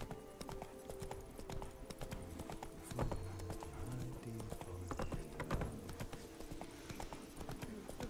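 Horse hooves clip-clop steadily in Witcher 3, a continuous rhythmic trot heard close, with a brief whinny and game background sounds around it.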